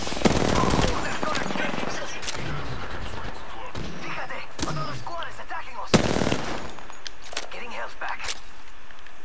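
Gunfire in Apex Legends: rapid automatic bursts and sharp single shots with loud cracks near the start and around the middle, mixed with busy game effects.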